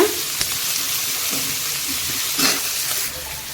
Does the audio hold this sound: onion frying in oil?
yes